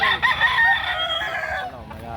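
A rooster crows loudly and close by, one drawn-out call that trails off.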